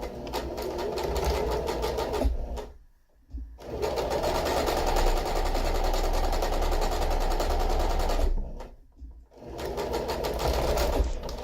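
A sewing machine stitches across the base of a fabric storage caddy in fast, rattling runs, stopping twice for brief pauses before resuming at a loud, even pace.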